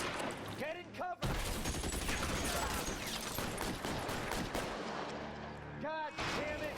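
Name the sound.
Tommy gun gunfire in video game L.A. Noire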